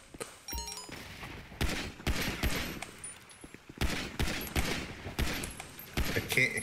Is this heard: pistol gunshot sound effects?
yes